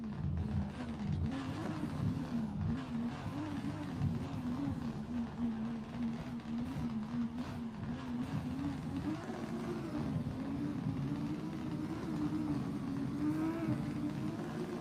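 An RX-8 and a Zenki S14 drift side by side in a racing sim, giving a steady droning engine note with wavering revs, moderately loud with no talk.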